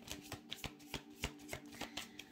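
Tarot cards being shuffled by hand, a quick irregular series of soft riffling clicks and slaps, close and quiet with no voices.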